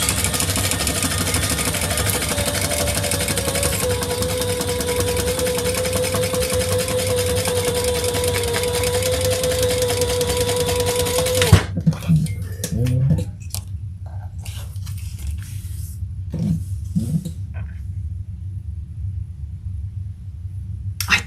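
A sewing machine top stitches a seam in fabric, running as a steady loud mechanical hum for about eleven seconds before stopping abruptly, followed by quiet handling noises.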